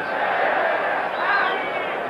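A boxing crowd roars in a noisy arena during a middleweight bout, a sustained swell of yelling voices that rises briefly, heard from a distance without a clear single voice.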